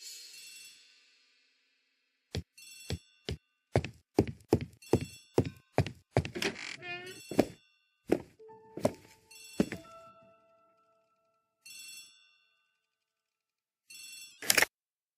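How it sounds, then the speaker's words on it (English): An old-fashioned telephone rings in a hall, coming as a series of sharp, bright bursts with brief pauses between them. Some knocks and thuds fall in the middle, and one last ring is heard near the end. "The telephone in the hall is ringing."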